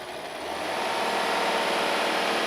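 A Rolls-Royce 6.75-litre V12 swells from a low idle into a smooth, steady rev that holds evenly and loud, with no roughness or break.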